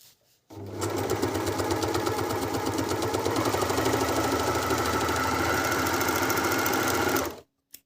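An Elna 904DE overlock machine stitching a rolled hem runs continuously at a fast, even rhythm for about seven seconds, close and loud, starting and stopping abruptly, with no speech.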